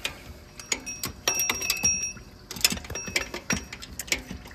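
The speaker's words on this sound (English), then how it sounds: "there's too much back drag in the ratchets, whether it's the actual ratchet or the ratcheting wrench." A ratchet wrench clicks in quick irregular bursts during a water pump replacement on a 2017 Toyota RAV4 Hybrid, close and loud, with metallic ticks and short pauses between strokes.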